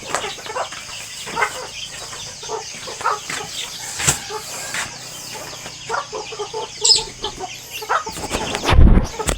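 Rooster and chickens cluck in a farmyard, with repeated close, loud calls and some wing flapping. A sharp burst near the end closes a lively, busy scene with little talk.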